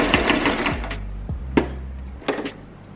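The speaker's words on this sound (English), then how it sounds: "I'm going to reverse my stitch for extra security" A sewing machine stitches back and forth while securing a seam on a wig, a short run of quick motor bursts with soft mechanical clicks and knocks, close and fairly quiet.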